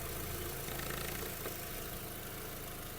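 A 2008 Volkswagen Golf Plus with a 1.6 MPI petrol engine idles steadily, a continuous low, even hum running throughout with no voices.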